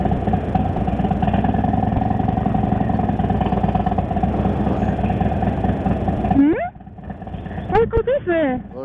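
Harley-Davidson motorcycles idling together as a group ride prepares to depart, a loud steady engine rumble filling the first six seconds, then dropping away as a few engines rev in short rising bursts with voices in the background.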